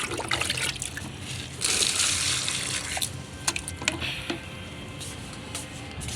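Water poured by hand onto potted plants or small trees, a steady trickling splash with a few louder gushes midway, fairly close and with no talking over it.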